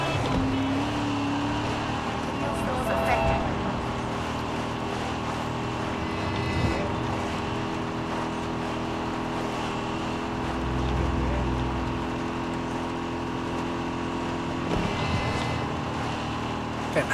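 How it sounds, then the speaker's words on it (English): A car engine in the video game Far Cry 6 hums steadily throughout at moderate loudness, with a low droning rumble and slight swells, and faint voices now and then. "I like the engine sound of this one."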